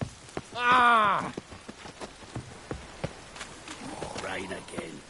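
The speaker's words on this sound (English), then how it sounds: "Rain again. Damn mages." Soft, steady rain patters in The Witcher video game under its soundtrack, with a voice groaning and calling out over it.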